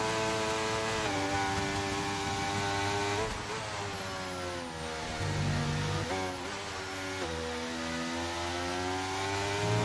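Mercedes Formula 1 car engine in F1 2023 racing at the Japanese Grand Prix, a steady high-pitched whine with rising and falling revs through gear changes, loud and continuous with no talk.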